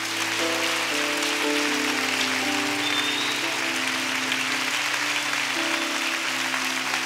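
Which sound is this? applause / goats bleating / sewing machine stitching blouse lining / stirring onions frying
applause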